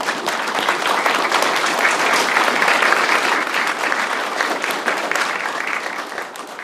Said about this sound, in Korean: 네, 여러분 큰 박수로 부탁드립니다.